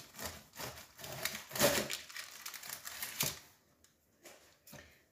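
A knife slices through a chilled almond cake set on a small wooden board, giving repeated close, crisp cuts and scrapes in bursts that trail off into quiet.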